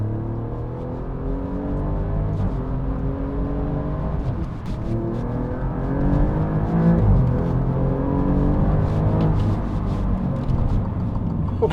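An Alfa Romeo Giulia Quadrifoglio accelerates hard, its engine note climbing through several gears with a loud, close growl and rising revs.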